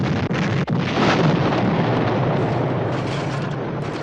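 Bomb explosions as B-17 bombers hit an airfield: a dense, loud roaring blast that rumbles continuously, with a couple of sharp breaks at the start, sustained and noisy throughout without talk.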